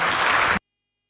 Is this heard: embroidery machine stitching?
no